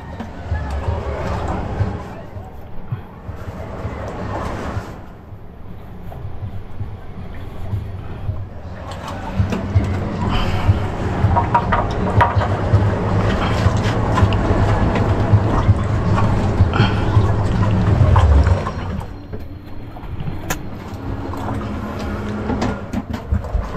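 A boat's engine is started and left running, a low rumbling drone that settles into a steady idle after the start, close and fairly loud, with people talking nearby.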